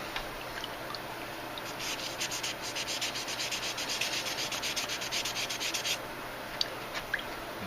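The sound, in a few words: lightly sanding a pot metal car part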